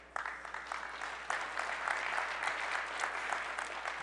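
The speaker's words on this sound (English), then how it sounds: "I'll accept gratuitous applause as well." Conference audience at a NAB 2018 product presentation breaking into applause, a sustained wash of many hands clapping that holds steady for several seconds, heard from a distance in a large hall.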